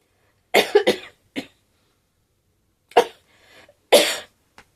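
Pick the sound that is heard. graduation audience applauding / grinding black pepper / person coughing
person coughing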